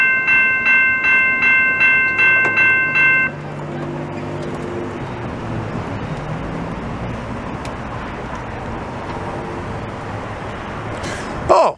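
Locomotive-hauled commuter train passing in Montreal: a horn blast sounds in repeated pulses at the start, then a steady loud rumble and clatter of railcars rolling by close, ending with a sharp knock.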